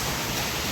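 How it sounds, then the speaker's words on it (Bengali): Heavy rain pours down onto trees and ground during a flood-season downpour, a dense, unbroken roar of water filling the brief moment. "হ্যাঁ, অনেক বৃষ্টি"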